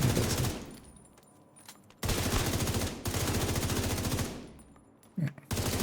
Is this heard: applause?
no